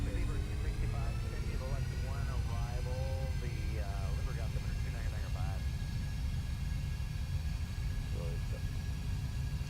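Airliner engines spooling up to takeoff thrust in a flight simulator, a steady low rumble with rising whining tones while a person talks over it.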